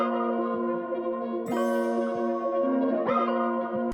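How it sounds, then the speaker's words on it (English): Half-timed synth arpeggio with an alpha synth accent, sustained bright tones ringing like bells with echo, two sharp accented swells breaking in partway through, alone without talk. "I used the accent, the alpha synth accent that we had, so it sounds like this"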